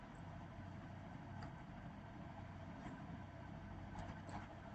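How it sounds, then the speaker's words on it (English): A hybrid vehicle's engine runs with a steady low idling rumble, constant and fairly faint, with no voices. "This is the engine of a hybrid vehicle."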